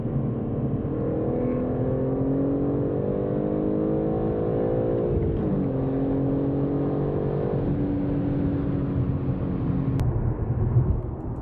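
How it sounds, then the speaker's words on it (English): BMW M3 pulling hard in third gear, engine note rising steadily as it accelerates, briefly dipping at a shift-like break midway before climbing again, loud and close from inside the car with a steady road roar beneath. "Do a little third gear pull right here."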